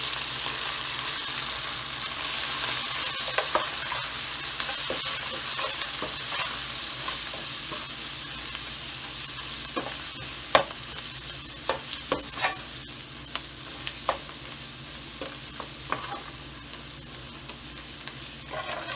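Spices are stirred and fried in oil in a pan during the cooking of palak chicken. A steady sizzle runs throughout, with scattered scraping clicks of the spoon, and no one speaks.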